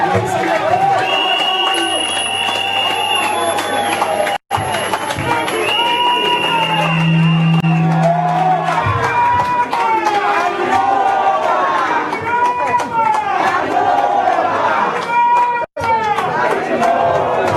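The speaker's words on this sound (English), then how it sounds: "please let's give a round of applause for Dr. Samura." Crowd at an APC political rally cheering and shouting after a call for applause, loud and dense, with chatter, whistles and raised voices layered throughout and a low steady hum underneath.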